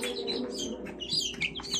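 Day-old chicks, a batch of 87, crowded together and peeping continuously in high, overlapping chirps, close by and fairly quiet, with a soft hum of the room underneath.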